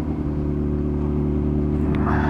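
A Yamaha FZ1-N motorcycle with an SC Projects aftermarket exhaust idles loud and close with a deep, throbbing exhaust rumble, rising slightly as it revs near the end.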